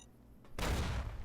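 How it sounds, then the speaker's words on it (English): A sudden loud burst of explosive blasts erupts in the Fallout New Vegas game after a quieter moment, a dense rumbling roar that keeps going to the end. "Explosions."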